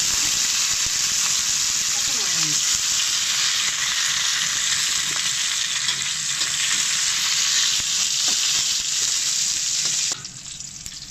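Mustard seeds, curry leaves and onion frying in hot oil in a pan, a loud continuous hiss and crackle with stirring scrapes, dropping slightly near the end; a brief voice speaks.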